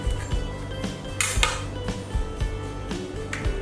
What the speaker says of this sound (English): I'll just slice off a piece here and we will try it out